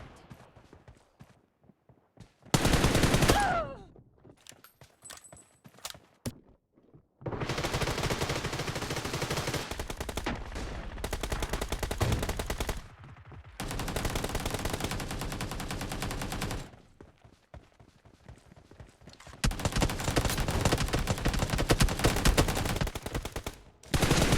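Automatic gunfire from the mobile battle royale game BGMI, played on a Realme 13 Pro+ 5G phone, comes in several loud sustained bursts lasting a few seconds each, separated by short quieter gaps.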